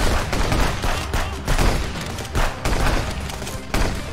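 Dense, continuous gunfire in the video game Contraband Police during a checkpoint assault, with bursts of rapid shots and booming impacts packed close together for the whole stretch, loud and chaotic.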